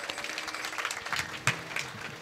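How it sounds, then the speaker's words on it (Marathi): Applause for performing artists at a stage event, a crowd clapping in a dense, somewhat distant patter, with a louder clap or knock near the middle. "अशा कलावंतांसाठी जोरदार टाळ्यांचा त्या ठिकाणी पाऊस पडला पाहिजे"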